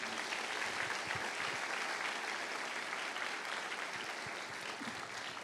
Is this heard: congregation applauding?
yes